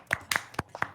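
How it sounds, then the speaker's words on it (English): A small group of people claps together on cue, a quick scattered run of about six sharp claps spread across one second, fairly quiet and close. "I like how all of us on cue clapped."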